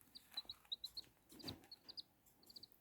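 Tiny Serama bantam chicks peeping like small birds indoors, with quick high chirps coming in short bursts, faint and close, and a soft rustle partway through.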